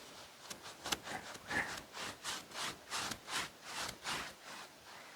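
A brush or stick stirs paint for a night-sky painting, giving soft rhythmic swishes and scrapes in a steady back-and-forth pattern, quiet and close, with no talking.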